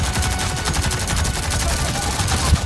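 Rapid bursts of gunfire from a legendary rifle in Avatar: Frontiers of Pandora, a fast, evenly spaced stream of loud shots running through the whole stretch.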